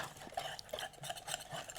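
Mixture whisked in a bowl with an OXO Good Grips whisk, quick faint scraping strokes and light metallic clicks in an irregular close rhythm.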